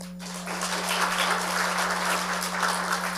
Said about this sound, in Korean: 찬양단 박수 한번 쳐주세요.